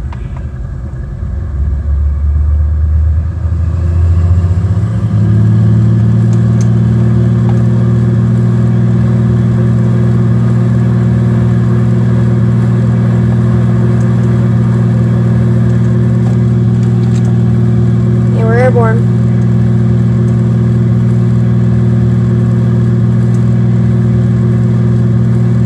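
A floatplane's engine in the flight simulator FSX spools up from a low rumble into a loud, steady drone for the water takeoff, holding a constant, even tone throughout.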